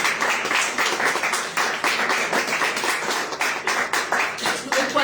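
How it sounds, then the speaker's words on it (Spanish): A church congregation applauds loudly in dense, continuous clapping that keeps going without a break, with voices mixed into the crowd noise. "Dale un fuerte aplauso al Señor."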